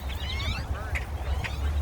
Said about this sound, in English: That's all bird on the top of the car.